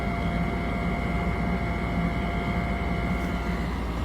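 A heater fan in a GAZelle 405 van blows with a steady, loud, even rush of air and a faint tonal hum, continuous from start to finish with no talking.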